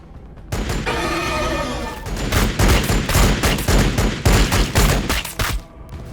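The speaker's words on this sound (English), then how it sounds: "We're taking fire!" Gunfire in the video game Warhammer 40,000: Battlesector, a sustained loud fusillade of rapid overlapping shots and booms, dense and close, with a short quieter stretch before the heaviest bursts.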